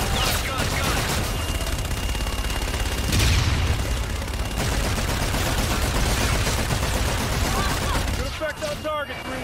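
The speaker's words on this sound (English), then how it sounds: "Roger, inbound for gun run." Strafing gun run from an aircraft in Call of Duty: Infinite Warfare: a dense, continuous roar of rapid cannon fire and impacts fills most of the stretch, with radio chatter over it before it cuts away.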